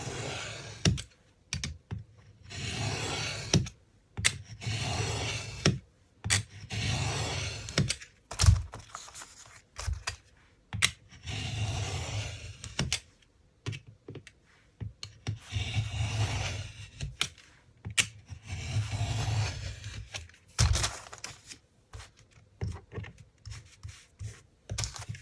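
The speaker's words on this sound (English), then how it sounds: "So I'm just gonna cut this with a knife." A craft knife slicing through paper for a handmade wall calendar, heard as repeated soft scraping and rasping strokes in bursts separated by short pauses, close up and fairly quiet.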